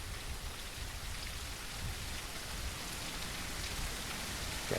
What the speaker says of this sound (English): here comes the rain, but we don't care